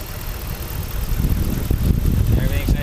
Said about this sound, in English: So here you can see the smooth running motor.